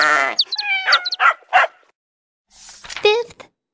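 A lamb bleats in a children's animal story, sounding as a few short wavering cries close up, separated by pauses; it may be a voice imitating the animal.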